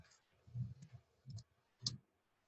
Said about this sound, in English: again, I know I'm typing